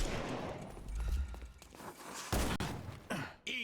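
Gunfire during a gang fight in the detective game Sherlock Holmes: Chapter One, a few loud, sharp shots and thuds set against a busy mix of game sound and shouts.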